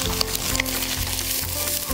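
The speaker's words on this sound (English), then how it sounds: "To fry until the onion getting soft, until the aroma comes out." Onion stir-frying in a pan with very little oil, a soft steady sizzle running alongside a low electrical hum, with no one talking.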